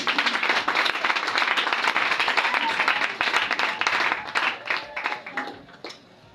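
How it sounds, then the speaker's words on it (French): A church congregation applauds in praise during a French-language sermon, steady dense clapping filling the room for several seconds before thinning and fading out near the end. "Acclame le Seigneur pour cela."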